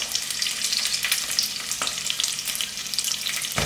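Onion and garlic hit hot canola oil in a pot for tortilla soup, producing a loud, close, bubbling crackle with rapid spitting pops and an occasional stir, no talking over it.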